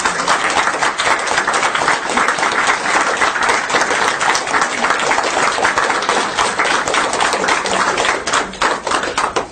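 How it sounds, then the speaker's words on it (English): Dense, sustained audience applause from a large crowd at a talk, a steady wash of many hands clapping at close range, loud and continuous with no voices on top, easing slightly near the end. "We don't always stay for the clapping"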